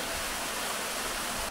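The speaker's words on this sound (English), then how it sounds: "try and capture just a bit of the plunge pool, the waterfall, and you can see the water coming down higher up" Waterfall on Newland Beck plunging into a pool, a steady, broad rushing roar of falling water, constant and close, with no voices.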